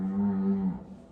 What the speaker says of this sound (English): So says the cow.